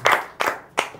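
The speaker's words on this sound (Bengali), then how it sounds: "চারজন একবার জোরে হাততালি" Three loud, sharp bursts of clapping from four game-show contestants, spaced about a third of a second apart, close and without talk.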